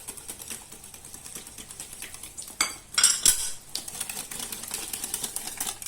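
Batter of flour and almond powder being whisked in a bowl for a mirabelle plum clafoutis, a steady run of quick metallic clinks and scrapes against the bowl that swells louder for a moment near the middle.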